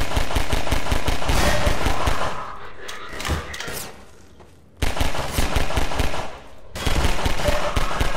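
Rapid automatic gunfire from a gun in Half-Life 2, loud close bursts of rhythmic shots that pause briefly twice before resuming in steady streams.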